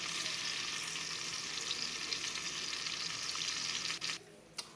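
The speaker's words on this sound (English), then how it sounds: "we're getting the last side of our pork seared" A pork loin sears in a hot pan with a steady, bright sizzle and crackle that runs throughout, briefly dipping near the end.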